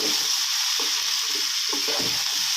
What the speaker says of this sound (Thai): นี่ครับผัดคลุกเขาให้สีเขาสม่ำเสมอกันนะครับเพื่อน